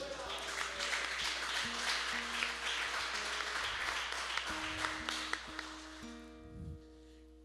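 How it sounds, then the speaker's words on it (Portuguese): A church congregation claps in a dense, sustained round of applause over sustained keyboard or organ tones, the clapping thinning and fading out near the end while the held notes continue. "aplauda Ele"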